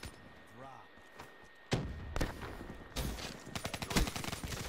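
Gunshots from Call of Duty Black Ops 3 break a near-quiet opening with a sudden loud burst, then keep cracking in irregular bursts that build into a rapid, dense volley at the end.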